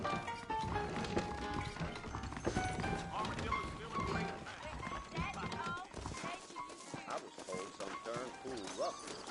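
Saddled horses in Red Dead Redemption, the western video game set in New Ulster, clip-clop with steady hoof beats throughout, mixed under a busy game soundscape and ongoing talk.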